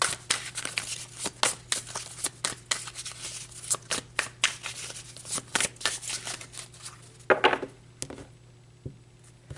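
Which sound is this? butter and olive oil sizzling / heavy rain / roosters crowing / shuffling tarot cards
shuffling tarot cards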